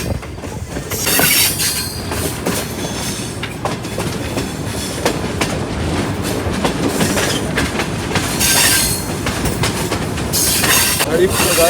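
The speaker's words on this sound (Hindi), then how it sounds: "10:05 पर ट्रेन हमारी अप्रोच बना रही है हरीपुर रेलवे स्टेशन पर" A passenger train approaching Haripur Hazara railway station on the Rawalpindi to Havelian line gives a steady loud rumble from inside, with rhythmic wheel clatter and occasional squealing swells throughout.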